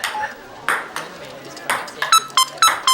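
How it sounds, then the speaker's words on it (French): A cell phone rings with a series of short, bright electronic beeps, sparse at first and then quickening into a regular pattern toward the end, heard in a quiet room. "J'appelle et ton cellulaire sonne."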